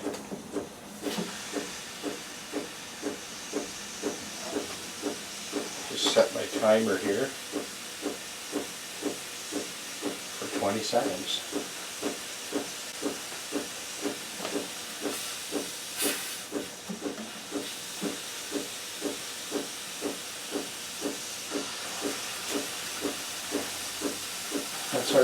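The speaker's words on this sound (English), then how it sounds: "Keeping that steam where we want to keep it." A continuous steam hiss from a guitar neck removal steamer pulses in rapid, regular puffs for a long stretch, with one brief burst of speech near the start.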